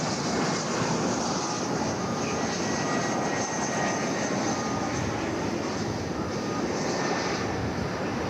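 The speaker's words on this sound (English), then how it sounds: "enjoy the sights and sounds of airplanes landing" Jet airliners landing at Dallas/Fort Worth International Airport, a continuous loud broadband engine roar filling the whole clip without pause, steady and close with no speech over it.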